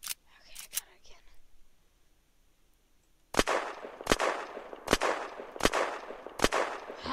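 Sharp, loud gunshots ring out in Unturned, two quick cracks at first, then a short lull and a steady run of five evenly spaced shots, each trailing a brief echo.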